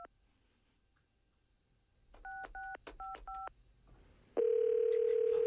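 A telephone being dialed indoors: a short run of quick DTMF keypad tones in uneven rhythm, followed by a loud steady tone on the line, with no talking.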